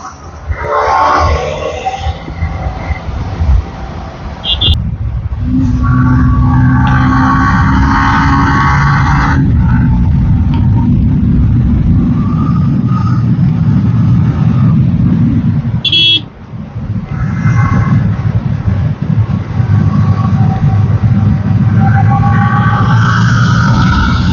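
Several motorcycles ride together on an open road, their engines droning loud and steady throughout with brief horn toots and a short dip in the middle.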